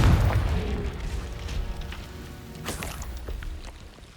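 A Confringo spell blast from a video game: a single deep boom at the start that decays into a rumbling tail, followed by a faint crackle.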